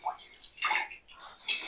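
Water splashes and runs in uneven bursts while homemade hair dye is rinsed out, the water turning black, heard close and fairly faint.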